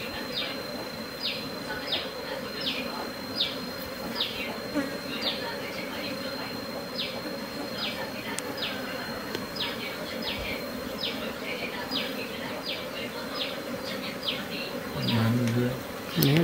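A dense honeybee swarm hums steadily as it flies into a hive kept indoors, a continuous close buzzing drone with faint bird coos and rustles behind it.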